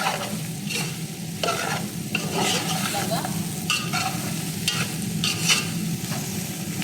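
Soya chunks (meal maker) and mushrooms fry in oil for a biryani, a steady close sizzle broken by repeated scraping stirs of a spoon in the pan, with no speech.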